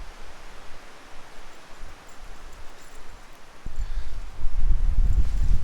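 A broad wind roar sweeps past outdoors during a hammock test, with a low rumble that grows stronger partway through as gusts hit.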